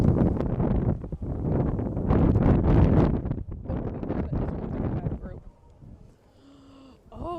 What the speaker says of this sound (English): Oh, this wind is just cutting.